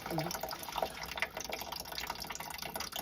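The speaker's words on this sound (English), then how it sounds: "Let the rest of the water drip out of this thing." Water dripping and trickling out of a steam boiler part, small close splashes and a light running trickle, with a voice talking over it.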